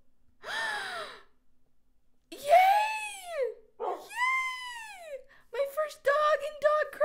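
A newly tamed dog in the Minecraft mod Dogcraft whimpers in several drawn-out, wavering whines, followed by a quicker run of short yips. The sounds are clear and close, with quiet gaps in between.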